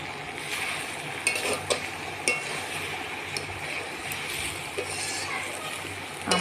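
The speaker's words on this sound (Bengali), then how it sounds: "আমি একটু গরম মশলা বাটা দিয়ে আর কিছুক্ষণ নেড়ে চেড়ে এটাকে নামিয়ে নেব" Boiled jackfruit with ground garam masala paste being stirred in a pan, a steady soft sizzle with occasional light scrapes and taps of the spoon against the metal, close by.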